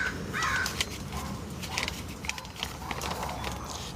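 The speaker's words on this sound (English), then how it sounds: "Crows are rare where I come from." Crows caw in a series of short, harsh calls at a moderate distance over steady outdoor background noise.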